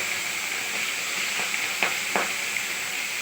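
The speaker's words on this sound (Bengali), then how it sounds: "চিংড়ি যেটা মেখে রেখেছি নুন আর হলুদ দিয়ে সেটা ফ্রাই করে নেব" Prawns marinated in salt and turmeric fry in hot mustard oil with a steady hiss, broken by a few sharper spatters and light scrapes as they are moved in the pan.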